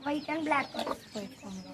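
Several chicks clucking close by in short, bright bursts, a quick string of calls with brief gaps between them.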